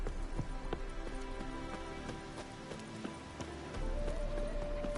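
Hoofbeats of a horse galloping in The Witcher 3 video game, a steady quick clip-clop carrying through the whole stretch with game ambience and a low rumble beneath, no talking.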